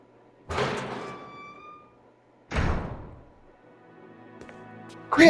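Heavy door sounds in a video game after a master key is used: two loud metallic thunks about two seconds apart, each with a ringing decay, followed by a quieter rumble and a sharp final hit, close and without talk.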